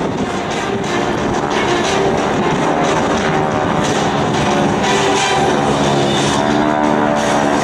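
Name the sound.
GEICO Skytypers aircraft flying in formation at air show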